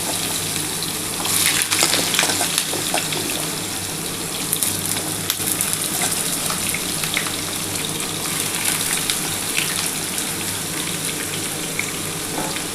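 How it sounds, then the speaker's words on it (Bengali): Potatoes dropped into hot oil for a lote (Bombay duck) fish curry, giving a loud, dense, continuous rushing sizzle that holds steady throughout. "বন্ধুরা দেখো আমার কিন্তু তেলটা গরম হয়ে গেছে। এবার আমি প্রথমে কিন্তু আলুটা দিয়ে দিচ্ছি।"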